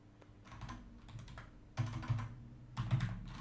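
Someone types on a computer keyboard while entering stock figures into cafe inventory software, a steady patter of soft key clicks with a couple of louder bursts near the end, no talking over it.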